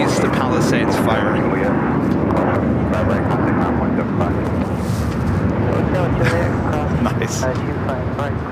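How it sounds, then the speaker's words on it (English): A Qatar Airways Airbus A350-1000 in Oneworld livery taxis at LAX and turns onto a taxiway, its engines giving a steady broad jet roar throughout while a person talks over it. "the big Q in the One World livery, the A350-1000, making that left-hand turn onto Bravo"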